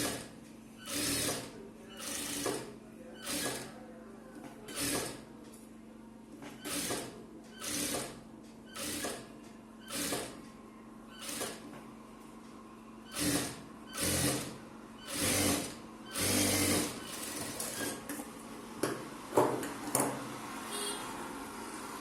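A sewing machine stitches piping onto a chudithar top in a steady run of about fourteen short bursts, each a quick whirring spell of stitching with brief pauses between, close and clear with no talking.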